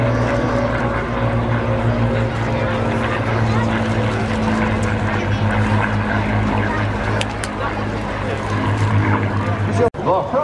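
Vintage P-40 and Mustang propeller warplanes fly at an airshow, a steady droning engine hum with tonal propeller whine heard from a distance beneath crowd ambience and public-address talk.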